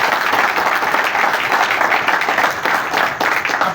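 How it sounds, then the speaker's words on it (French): A crowd applauds at a departmental league gathering, dense continuous clapping, loud and close, with no pauses. "Vous demandez d'applaudir quand même pour eux."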